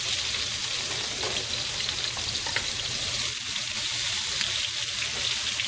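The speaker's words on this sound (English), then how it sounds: "I'm going to saute my peppers and onions first." Peppers and onions sauté in a hot pan, giving a loud, continuous close-up sizzle with crackling and the occasional soft stir, steady throughout with no voices.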